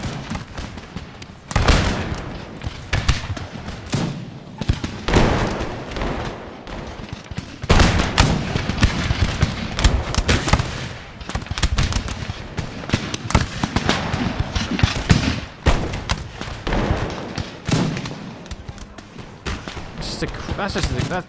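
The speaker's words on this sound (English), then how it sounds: "That's under small arms fire. Listen to those sounds." Small arms musket fire in an Empire Total War battle with the Darthmod mod, Ottoman Empire river skirmish: dense, crackling volleys of gunshots popping continuously and irregularly, with louder bursts layered over a steady din of battle noise.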